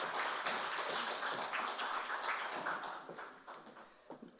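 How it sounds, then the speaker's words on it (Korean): Audience applause at a Korean national assembly regional development forum launch, welcoming the agriculture minister to the stage: dense, steady clapping from a seated crowd that thins into scattered claps toward the end. "네, 박수로 맞이하시면 감사하겠습니다."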